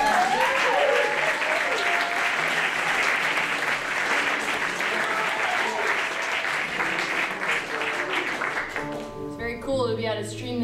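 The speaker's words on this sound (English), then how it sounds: "Can we give a big round of applause for Paul for organizing this whole thing?" Concert audience applause at a bluegrass show, steady loud clapping filling the room for most of the clip before thinning out near the end.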